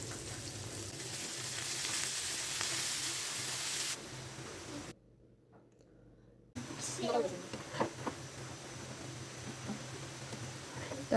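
Chopped onion and garlic fry in hot oil for a red amaranth greens dish, giving a steady close sizzle that drops out briefly and then returns with a voice over it.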